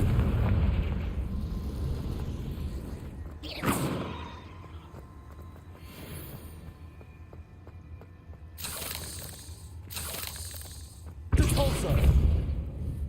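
Confringo spell explosions in the video game Hogwarts Legacy go off as several separate bursts: a short blast, then two quick cracks close together and a final heavier boom, spaced out over a murmuring game background.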